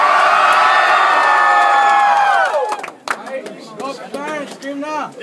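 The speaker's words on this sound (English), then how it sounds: "So if you're going for Mr. Cherry, scream now" A school audience at a Charlotte Country Day rap battle erupts in loud screaming and cheering to vote for a contestant, a sustained wall of crowd noise that cuts off abruptly, then gives way to scattered shouts and voices.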